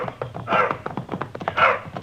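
Close, agitated dog yelping and whimpering in short repeated bursts with whiny cries between, from an old radio drama scene.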